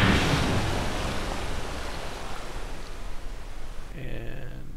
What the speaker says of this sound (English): Oh, we're about to splash down. Look at that water.